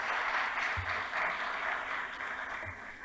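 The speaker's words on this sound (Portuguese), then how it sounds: "Merece aplausos, por gentileza" Audience applause at the opening session of a logistics conference, a steady, dense wash of clapping from a crowd that holds for about three seconds and eases slightly toward the end.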